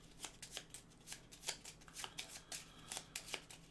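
Cards for the board game Pandemic are shuffled at a table: a quiet, rapid series of riffling flicks and slaps in an irregular rhythm, with no talking.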